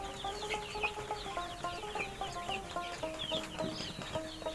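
Chickens on a poultry farm cluck in a continuous, overlapping chatter of short repeated calls, fairly faint but steady throughout.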